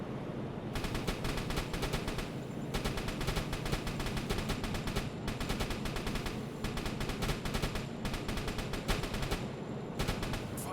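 A submarine deck gun in the UBOAT video game fires in rapid bursts at a ship, each salvo a dense run of sharp booming shots separated by brief pauses, loud and close.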